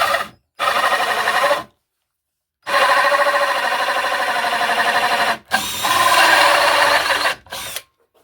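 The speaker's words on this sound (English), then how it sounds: "I shall drill a hole with my hole saw" A power drill fitted with a hole saw cuts through wood in a garage, in several loud, close bursts of whirring and grinding separated by short silent pauses.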